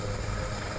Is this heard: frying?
no